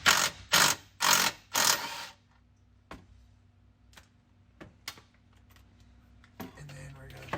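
A ratchet with a 9/16 deep socket removing carriage bolts, several loud ratcheting bursts up close followed by scattered faint clicks and handling noises.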